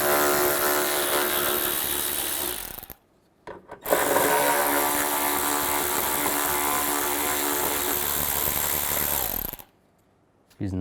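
Power tool whirring steadily on bumper screws of a 2013-15 Chevy Cruze with a 7mm socket, two long runs separated by a brief pause, loud and close.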